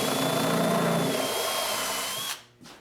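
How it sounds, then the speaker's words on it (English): Power drill driving a 3/8 inch countersink bit into wood during an antique table repair, a loud steady whine up close that spins down and stops near the end, with a brief tail. "I'll come through from the other side with a countersink bit here that's 3/8 inch diameter"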